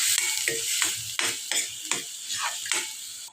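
Onion and cabbage paste being stirred in a pan, a run of rhythmic spoon scrapes and clacks about every half second over a light sizzle, close and clear.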